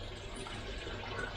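Water runs steadily through a DIY pond filter fed by a 20,000 litre pump running at partial power, a constant close rushing and trickling with no pauses.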